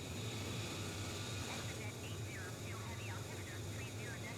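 Small propeller plane in flight, a steady loud engine drone filling the cabin throughout, with faint whistling tones rising and falling over it.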